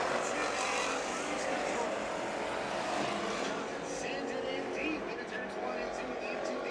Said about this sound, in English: Pretty fun American stock heat race we just saw.